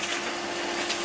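A vacuum cleaner with a long hose drones steadily while hoovering cobwebs in a garage roof space, a loud, continuous broadband whoosh with a faint tonal hum underneath.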